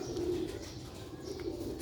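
Sialkoti pigeons coo in a low, continuous rolling murmur close by, with no talk over it.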